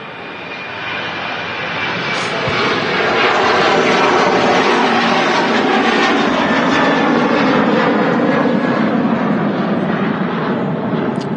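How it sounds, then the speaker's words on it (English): A Ryanair Boeing 737-800 jet departs Manchester Airport, its engines building from a rising roar into a loud, steady, broadband rumble that holds close and strong for about ten seconds, with no voices. "Ryanair heading off to Milan next. 737-800."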